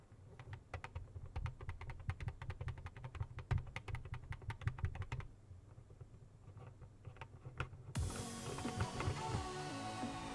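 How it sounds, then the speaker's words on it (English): Knob and flat wheel of a Tourbox controller are turned, giving rapid plastic ticks and rattly clicks in bursts, close and fairly quiet, with a brief lull before a denser rattle. "the middle knob and the flat wheel both feel a bit rattly and plasticky rather than smooth and sturdy"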